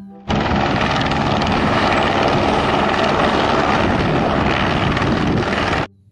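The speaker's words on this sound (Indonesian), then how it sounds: "Wow, lihat, ada helikopter." A toy helicopter gives off a loud, steady whirring rotor drone that starts abruptly, holds evenly for about five and a half seconds, then cuts off, with no talking.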